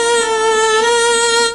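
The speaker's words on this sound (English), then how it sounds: "Viola is a bit longer." A bowed viola string sustains one steady, rich note with many even harmonics, held loud and alone for about a second and a half, played as a mid-range example between violin and cello.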